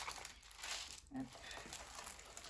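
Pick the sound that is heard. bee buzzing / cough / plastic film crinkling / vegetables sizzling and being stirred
plastic film crinkling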